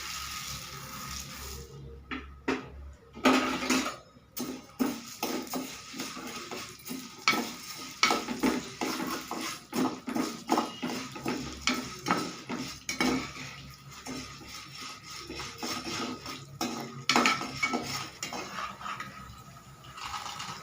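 A metal spatula clinks and scrapes repeatedly against a pan while chana dal and urad dal dry-roast for a drumstick-leaf and curry-leaf podi, in irregular stirring strokes over a faint sizzle, close and without speech.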